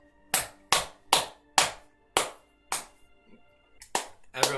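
Sharp hand claps, about nine distinct close claps at an uneven pace, loud and crisp, alone with no talk.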